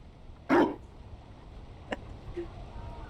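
A Mabari war dog in Dragon Age: Inquisition gives one sharp, loud bark, followed by a couple of fainter yips over quiet game ambience.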